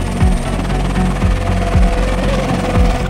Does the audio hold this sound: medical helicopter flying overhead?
yes